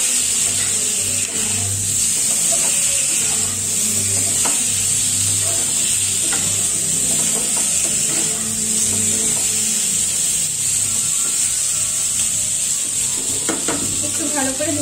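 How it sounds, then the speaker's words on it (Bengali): Fish sizzling and frying in a hot pan of oil for a fish curry, with a steady loud hiss throughout and occasional stirring scrapes close by. "একটু ভালো করে ভেজে নিতে হবে।"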